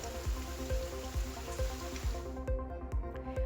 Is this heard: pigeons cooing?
no